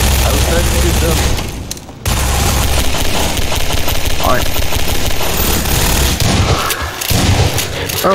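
Gunfire in the video game Garry's Mod, with loud bursts of rapid shots and booming blasts layered close together, a short lull partway through, and some talking mixed in.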